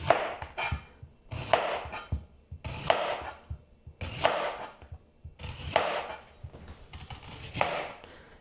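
A knife chopping red onion on a board, rhythmic bursts of cutting strokes repeating roughly every second or so, close and fairly quiet, with no talking.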